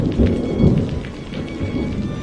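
Heavy downpour with rolling thunder, a dense steady roar of rain with low rumbles throughout, loud and close, with no voices.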